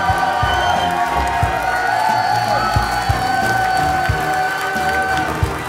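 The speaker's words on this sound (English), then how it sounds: "can I get a round of applause for your champion?" A tournament audience claps and cheers for the Clash Royale champion at a live event in Helsinki, a steady loud wash of crowd noise with scattered whoops over background music.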